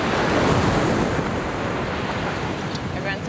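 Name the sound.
big ocean waves crashing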